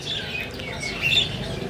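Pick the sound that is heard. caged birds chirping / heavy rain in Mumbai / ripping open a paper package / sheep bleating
caged birds chirping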